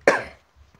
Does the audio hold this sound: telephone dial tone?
no